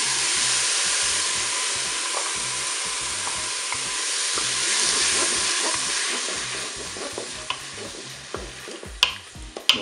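Bell peppers frying in a Cookeo multicooker pot, a steady loud sizzle and hiss with rhythmic stirring scrapes throughout and a few sharper utensil knocks near the end.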